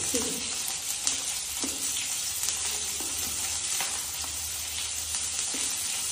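Food frying in hot oil in a home kitchen pan, a loud, steady close sizzle with soft scraping as it is stirred every second or so, no voices.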